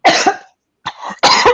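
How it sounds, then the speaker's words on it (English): Three sharp, close coughs from an adult, two quick bursts, then a brief gap, then a final louder cough, with no other sounds. "I started coughing."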